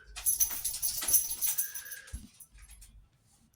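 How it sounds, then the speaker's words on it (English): A pet dog comes over to greet, giving soft whimpers and small yips amid light rustling and jingling, close and fairly quiet, a brief low thump near the end. "There's my doggy. Coming to say hello."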